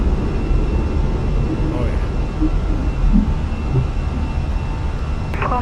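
Fenix A320 airliner climbing out after takeoff in a flight simulator, with a steady broadband engine roar filling the whole stretch and a brief voice exclamation over it.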